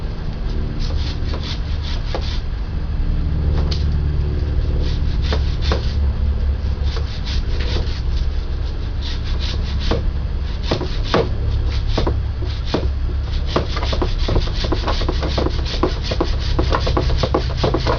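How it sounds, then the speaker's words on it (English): Pruning shears cutting through an old-growth Brugmansia stem in a spring greenhouse, heard as steady close scraping and rubbing of woody stem with repeated sharp snips and clicks, no talking. "for the last cut, we'll trim right above the surface, again at an angle"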